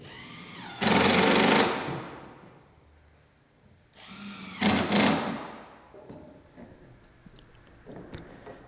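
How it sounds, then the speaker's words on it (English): Two bursts of a power drill whirring close by as it pre-drills screw holes in gazebo floorboards, the first short and loud, the second longer and rising in pitch, then quiet handling noises. "Pre-drill the holes for the screws."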